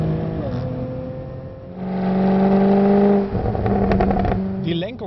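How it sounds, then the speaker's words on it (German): Engine of a Jaguar F-Type prototype revving up through its rev range from inside the car, with a loud, rising drone that eases off briefly and builds again, while someone talks over it. "Spürt man natürlich, wie das Auto wie der Motor durchs Drehzahlband geht."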